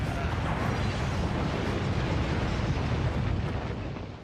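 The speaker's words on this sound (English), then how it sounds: "We've got to find out where that explosion came from." Cartoon explosion rumbling as a sustained, loud roar that fills the whole stretch and fades slightly at the end.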